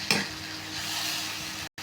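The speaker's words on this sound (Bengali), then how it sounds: "এগুলো দিয়ে দিচ্ছি, ভালো করে লাড়াবো, ভালো করে কষাবো" Spiced onions and chillies being stirred and fried in a pan, with a steady soft sizzle, a sharp scrape of the spoon at the start, and a brief cut near the end.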